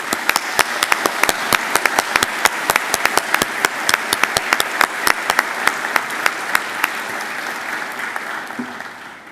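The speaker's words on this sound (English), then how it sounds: "Please join me in giving them a round of applause." Graduation ceremony audience applauding graduates, a dense sustained wash of many hands with sharp individual claps standing out, fairly loud and even throughout before tapering slightly at the end.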